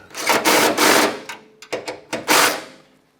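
Bolts are run into aluminium nutserts on a camping table with a series of close, gritty ratcheting and scraping bursts, some long and some short clicks, and no voices heard.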